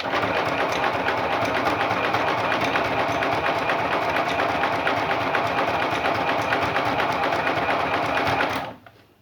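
A Soeasy sewing machine, in for servicing because its upper and lower threads fail to catch, runs at high speed with a steady, rapid mechanical chatter for about eight seconds, then stops abruptly.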